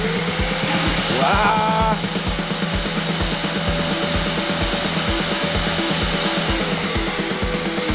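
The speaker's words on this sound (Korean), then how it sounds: "1m 높이에서 한번 흡입 펌핑을 해보겠습니다" A 4-in-1 multi cleaner runs a suction pumping test from a 1 m height, giving a steady, loud motor whine with a rhythmic pulsing throb throughout, and a brief exclaiming voice near the start.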